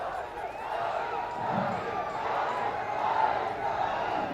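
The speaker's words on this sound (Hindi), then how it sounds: "ये रैली की भीड़ देखिए, जोरों शोरों के साथ भगवा झंडा लिए लोग, आवाज सुनिए" A large crowd at a political rally, people carrying saffron flags, roars in a steady continuous wash of voices with shouted chants rising and falling throughout, mid-distance and fairly loud.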